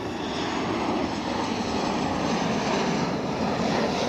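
An aircraft coming in to land at Edinburgh airport, a steady broad engine rumble holding constant and fairly loud throughout with no voices.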